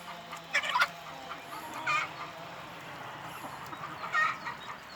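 A few scattered bursts of chicken squawking and clucking, moderately close, separated by stretches of quiet outdoor background.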